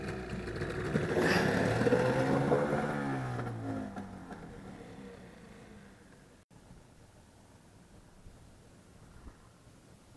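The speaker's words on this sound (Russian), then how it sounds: "Моторчик надо погреть." A small outboard boat motor warming up on a river, a loud close engine drone that rises and wavers early on, then settles and fades to a quieter steady hum.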